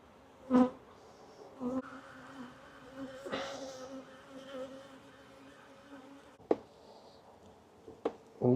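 Honey bees hum steadily in an open hive with hanging drone comb, a continuous near buzz with a few sharper knocks and brief louder swells from bees passing close.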